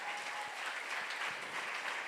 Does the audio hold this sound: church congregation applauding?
yes